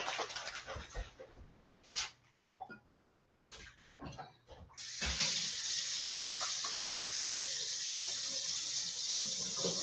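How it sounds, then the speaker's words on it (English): A kitchen tap runs for hand washing, starting after a few clatters and short knocks, then a steady, close hiss of water pouring into the sink. "I'm just going to wash my hands"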